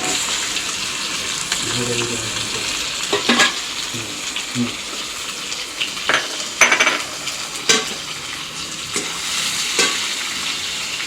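Onion frying for poha in a pan on a traditional chulha, heard as a steady sizzle with scattered utensil scrapes and clinks while stirring and some faint background voices.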